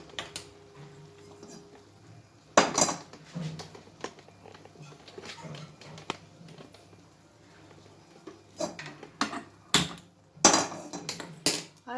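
A metal kadhai set down on a gas stove while gajar ka halwa cooks, giving sharp metallic knocks and clatters in scattered bursts, loudest around the middle and end, over a low burner hum.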